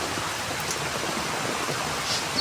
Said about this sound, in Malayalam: നല്ല മഴയുണ്ട്, നല്ല കാറ്റുണ്ട്.